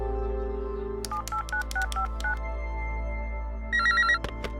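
A telephone on speakerphone in a film scene beeps through a series of dialing tones, then a short electronic ringtone trill sounds, all clear and fairly quiet against a low hum.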